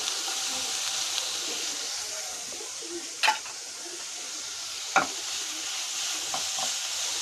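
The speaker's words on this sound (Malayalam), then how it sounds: "ജസ്റ്റ് ഒന്ന് ഇളക്കി കൊടുക്കുക കുറച്ച് ക്യാരറ്റ് ആഡ് ചെയ്ത് കൊടുക്കുക" Carrots and vegetables fry in a pan for vermicelli rice, producing a steady hissing sizzle with occasional spatula scrapes and a couple of brief clinks, with faint bird calls in the background.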